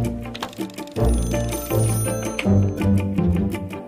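A toy Disney magic telephone rings with a bright, continuous electronic bell and jingling tones, busy and close, layered with cheerful toy melody sounds.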